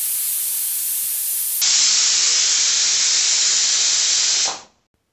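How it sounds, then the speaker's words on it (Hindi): A loud, steady pressure cooker whistle hissing continuously, shifting pitch partway through, then cutting off abruptly. "कुकर ने एक सीटी लगा ली है"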